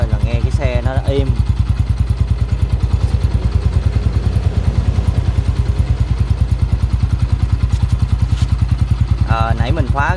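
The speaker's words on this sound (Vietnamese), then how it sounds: "xe mà nổ máy là một cái thôi là nghe cái xe nó đã im" A motorcycle engine idles just after an XADO oil change, a steady close low rumble with even rapid pulsing throughout, and brief speech near the start and end.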